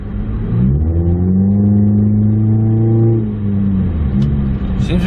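A car engine idles with a low rumble, then revs up into a loud, sustained rising drone before dropping back to a lower idle, close and alone.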